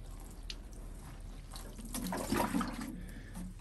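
Water sprinkled lightly over pelargonium seed trays of compost, a soft watery patter that swells briefly midway, quiet and close against a faint steady background hum.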